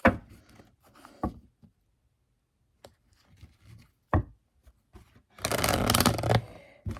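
Tarot cards shuffled by hand at a table, heard as scattered soft taps and slaps with a dense riffling burst near the end, close and fairly quiet, with no talk.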